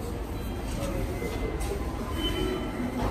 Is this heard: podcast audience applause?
no